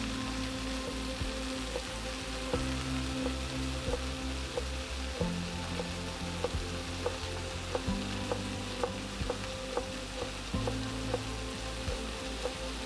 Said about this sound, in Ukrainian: Поки смажаться гриби, я наріжу зелені.